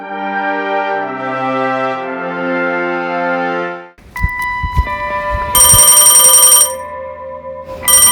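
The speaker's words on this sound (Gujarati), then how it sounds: "અલા કોનો ફોન છે આ?" A telephone rings with a loud, bright electronic ringtone, first as a sustained melodic tone pattern and then as bursts of chiming rings after a brief pause, with no talking.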